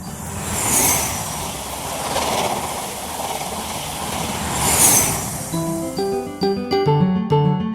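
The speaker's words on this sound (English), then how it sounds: "Bullet train." Bullet train rushing past with a broad whooshing roar that swells twice, followed by a short tonal, melodic sound toward the end.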